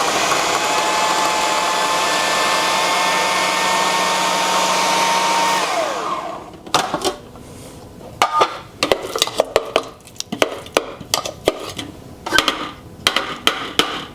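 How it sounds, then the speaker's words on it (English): A food processor purees squash and carrot for a carrot cake, a loud steady whirring motor that runs continuously for several seconds, then stops and gives way to clattering knocks and clinks of the bowl and utensils being handled. "I'm going to pop it in the food processor and basically puree it"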